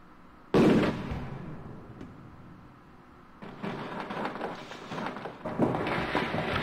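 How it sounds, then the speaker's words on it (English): A sudden loud boom bursts out in the video game Sherlock Holmes: The Mystery of the Mummy, fades to a low rumble, then rumbling blasts and crackling debris build again, fairly close. "My god, what an explosion!"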